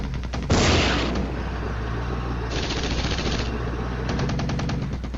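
A gunfire exchange with cavalry in a modern war strategy game. Long rattling bursts of automatic fire come in three waves over a constant dense roar of battle noise, loud and continuous.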